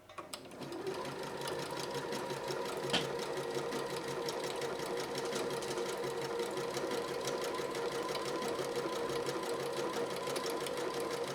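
A Janome 3160 QDC sewing machine runs at moderate speed laying down a decorative stitch, giving a steady, even mechanical hum and rapid needle ticking that lasts throughout, close up, with a single small clack partway through.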